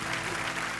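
A studio audience on a Sony TV show set claps for Yulia in a short, dense burst of applause that fills the moment with even crowd clapping and no pause.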